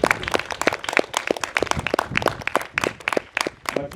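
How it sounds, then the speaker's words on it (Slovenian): An audience claps for parish priest Martin Golob at the launch of his third book, a lively round of applause with many distinct hand claps close by, nobody speaking. "En aplavz, prosim."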